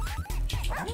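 A dog in the game Russian Subway Dogs gives a quick run of yips and barks, close and fairly loud, in one brief burst.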